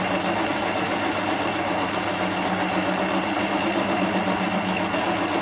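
Lathe turning home-cast aluminium round stock at a coarse speed, a constant mechanical hum and rattling drone with a gritty cutting texture, close and unbroken throughout, no voices.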